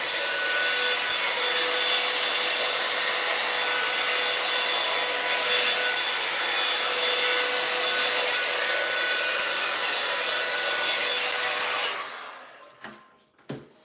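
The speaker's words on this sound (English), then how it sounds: "And it gives your hair a whole lot of volume while blow drying your hair." A hair dryer blows steadily at close range for about twelve seconds, a loud, even roar while drying hair on a sew-in with wavy bundles, then cuts off, followed by a few soft handling clicks.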